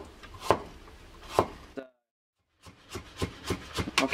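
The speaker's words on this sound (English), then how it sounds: "Then I'm gonna keep slicing." A knife slicing through a carrot on a cutting board, with steady close chopping strokes, a short silent gap, then a quicker run of cuts.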